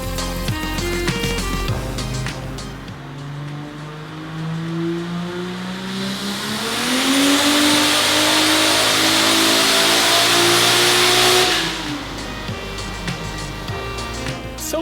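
Toyota Supra with big 2200cc injectors revving hard during dyno power runs, a loud sustained engine roar climbing in pitch from about six to twelve seconds, with lower idle-like running before and after.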